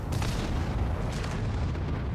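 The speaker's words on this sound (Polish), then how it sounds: "wszystko Holik oddaje pierwszy strzał, co oznacza, że ma przewagę w tym 1 na 1." A heavy cannon blast from a tank in World of Tanks, a deep booming shot with a rumbling tail, loud and close, no talking.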